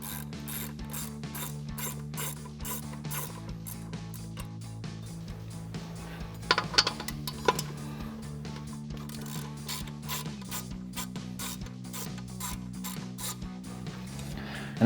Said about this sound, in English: then we'll take a 17mm socket to remove our 2 bolts